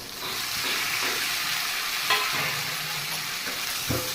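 Chicken pieces being stirred into a sizzling masala for fry piece biryani, a steady frying hiss with soft spoon scrapes and a couple of louder knocks against the pan, no talking.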